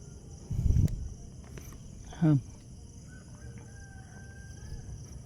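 A short, faint crow from a distant rooster, with a brief rustle beforehand and a quiet background of insects.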